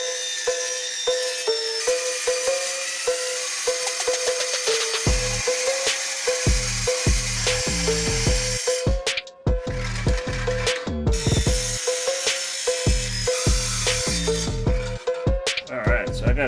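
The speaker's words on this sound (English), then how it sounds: "Since I already have this aluminum square tubing, I'm gonna split it in half." Aluminum square tubing is cut lengthwise in half for a VW skid plate, with a saw rasping in repeated strokes, near and loud, pausing briefly partway through before resuming.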